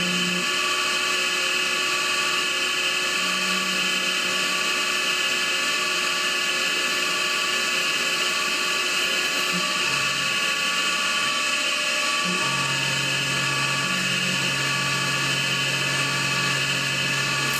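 A Tormach CNC mill spins a cutter into steel at 2000 RPM, giving a steady high-pitched machining whine with a shifting low tone, loud and continuous throughout with no talk.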